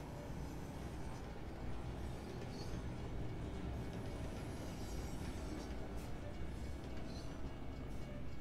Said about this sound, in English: Oh, a train coming through?